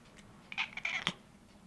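A pet cat meows up close in a quiet indoor room, giving a couple of short, bright calls within about a second, with no talking.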